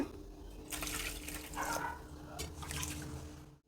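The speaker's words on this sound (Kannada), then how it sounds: "1-2 ಸಲ ಅಕ್ಕಿನ ತೊಳೆದ್ಬಿಟ್ಟು ನೆನೆಯೋಕ್ಕೆ ಹಾಕ್ತೀನಿ." Soaked rice sloshes and trickles in water as it is washed by hand, a steady close splashing and dribbling that rises and falls for a few seconds with no voices.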